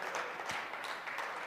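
Audience applause during a motivational talk, a soft continuous patter of many hands clapping at a distance, fairly faint and even throughout.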